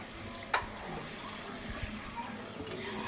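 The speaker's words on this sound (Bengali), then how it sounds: "এইবার আমি মিক্সচার ধোয়া জলটা দিয়ে দেব" Water used to rinse a mixer jar is poured into a pan of sizzling mustard spice paste, giving a steady soft hiss and bubbling with a few light clinks, fairly quiet throughout.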